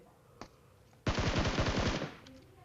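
Automatic gunfire from a shooter video game comes as one sharp burst of about a second, rapid closely spaced shots loud and near, after a lone faint click.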